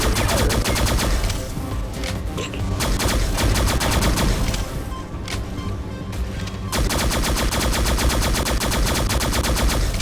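Continuous rapid-fire automatic weapons in the sci-fi shooter ShadowGun Legends, loud and close, rattling in fast even bursts with a brief lull midway before the firing resumes.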